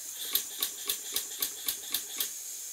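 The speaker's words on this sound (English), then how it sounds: "just enough to hear the hissing noise as the air is admitted and exhausted from the cylinder at each end" A Stuart model steam engine runs on compressed air, its cylinder giving a steady, evenly spaced series of sharp hissing puffs, about four per second, as air is admitted and exhausted at each end; close and moderately loud.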